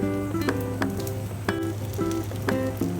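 A Taiwanese scallion pancake fries in a pan: constant close sizzling with faint crackles, punctuated by repeated short clinking knocks at an uneven rhythm.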